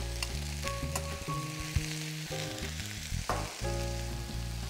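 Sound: baby bok choy and straw mushrooms sizzling in oil

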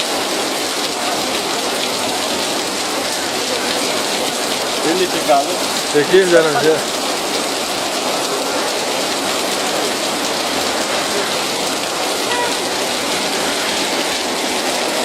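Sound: heavy rain pouring

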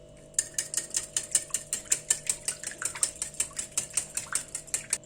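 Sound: whisking sauce ingredients with salt, chili flakes and thyme

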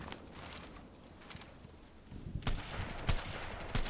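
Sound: gunfire in the video game Contract Wars

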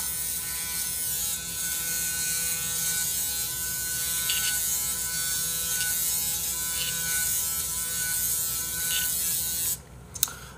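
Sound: Braun electric shaver running

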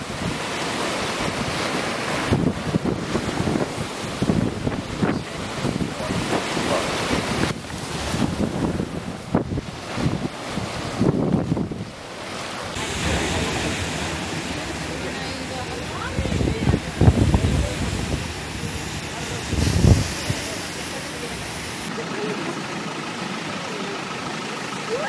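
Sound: strong ocean waves hitting town

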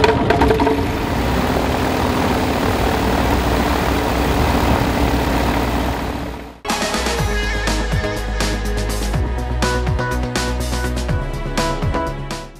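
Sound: small aircraft engine starting and idling

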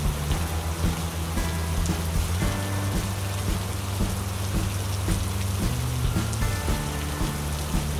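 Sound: rain

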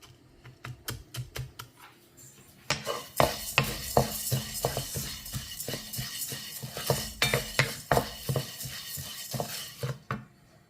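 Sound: horse gram being stirred and roasted in a pan

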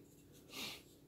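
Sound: sniffling

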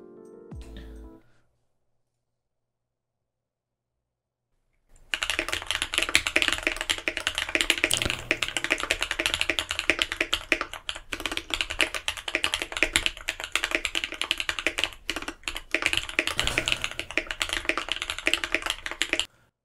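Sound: typing on a custom mechanical keyboard

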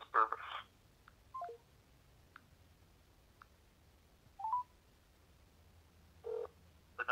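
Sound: telephone keypad dialing tones

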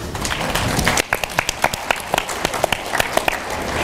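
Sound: audience clapping

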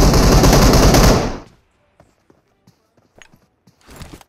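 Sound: gunfire in PUBG Mobile video game

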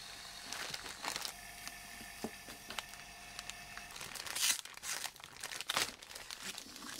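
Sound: plastic sheet being handled for carbon vacuum bagging

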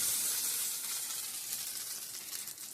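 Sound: dried chili tempering sizzling in oil

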